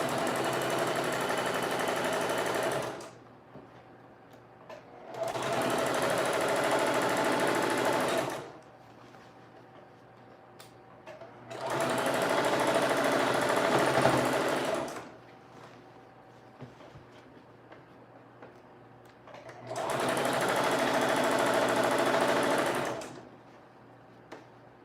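A home sewing machine stitches a summer dress in four long bursts of steady mechanical whirring, each several seconds long, separated by quiet pauses with faint handling noises, close and fairly loud.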